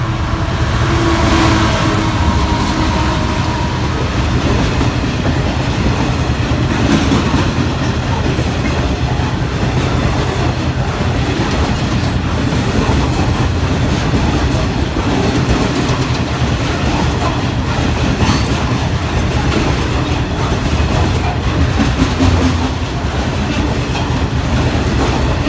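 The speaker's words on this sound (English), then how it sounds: "66782 with the Charity Rail Tours livery." Freight train hauled by class 66 locomotive 66782 with DB hoppers rolls slowly past Doddington Road level crossing, a loud continuous rumble with rhythmic wheel clicks and faint squeals for the whole stretch, no talking.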